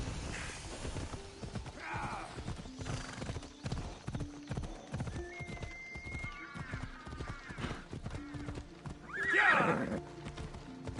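Horse hooves clip-clop in a steady galloping rhythm in Assassin's Creed Odyssey, with a loud whinny near the end over game music.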